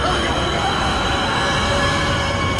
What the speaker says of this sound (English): That's the C-Train!